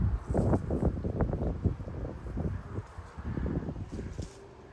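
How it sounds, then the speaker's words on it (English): Gusting wind buffets the microphone outdoors in Frisco, Texas, in repeated rough bursts of rumble and rustle with no speech, easing slightly toward the end. "these winds are starting to they said the winds are going to get stronger as the day goes on"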